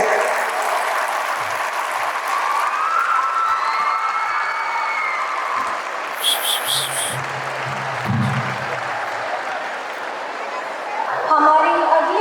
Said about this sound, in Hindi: पुनः तालियों की गुजारिश आप सभी से।